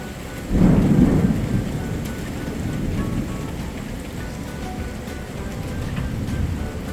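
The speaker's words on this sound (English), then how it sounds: "We're even getting lightning." A deep roll of thunder booms early, then rumbles on beneath a steady wash of rain falling on surfaces.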